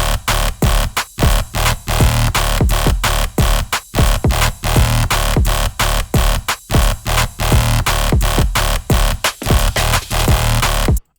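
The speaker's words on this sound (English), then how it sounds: "sci-fi neurofunk bass stab with a lot of" A gritty, aggressive sci-fi neurofunk bass stab synth built from a square wave, a sine wave and a little white noise hits in a rapid, choppy rhythmic pattern, dense and loud, with short pauses between the stabs.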